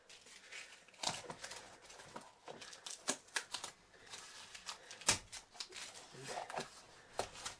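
Masking tape pulled and pressed onto the lid of a bullet-coating tumbler, giving a string of crinkly tearing and rubbing bursts with sharp peaks, close and fairly faint.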